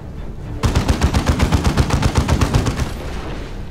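Heavy bolter fire in Dawn of War 2, a loud, evenly spaced rapid burst of booming shots lasting about three seconds, starting abruptly and then ending.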